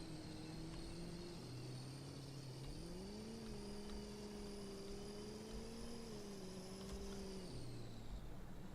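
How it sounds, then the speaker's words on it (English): A truck's turbo whining in Farming Simulator 22, a steady high-pitched whistle held over a droning engine whose pitch steps up and down, continuous and fairly quiet with no talking. "that frickin' turbo whine"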